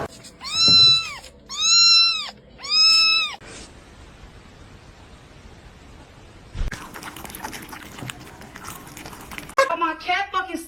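A cat stuck in the floor gives three loud, drawn-out meows close by in quick succession. Low rustling follows, then scraping, clattering handling noises and a brief burst of squeaky chirps at the end.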